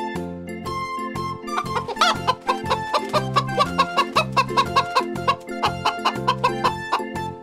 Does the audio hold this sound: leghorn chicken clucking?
yes